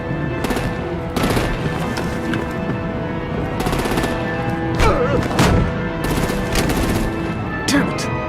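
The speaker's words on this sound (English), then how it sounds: "Bring out the artillery and disable their vehicles!" Rapid bursts of artillery and machine-gun fire in the Batman: The Enemy Within video game, loud repeated volleys with sharp cracks over a dense, continuous battle din.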